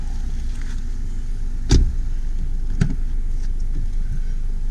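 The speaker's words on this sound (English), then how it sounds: "I hope this video comes out with some background noise, road noise." Steady low rumble of road and tire noise fills the cabin of a 2014 Mercedes-Benz C250 Sport with 102k miles while driving, broken by two brief soft thumps.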